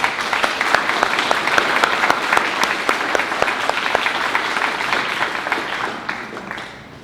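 Audience at a Forsyth Central alumni Hall of Fame induction ceremony applauds for the inductees, steady dense clapping with a few sharper claps, holding for several seconds before tapering off.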